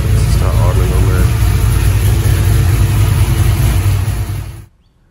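A Holden HQ fitted with an LS1 V8 idles strapped to a dyno, a loud steady low rumble that runs unbroken for several seconds, then cuts off abruptly near the end.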